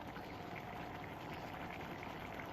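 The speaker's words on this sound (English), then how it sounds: "So that's what it looks like cooking down right now." Jamaican-style curry coconut shrimp simmering in a pot, giving a steady, even bubbling and sizzling that stays constant throughout with no voices.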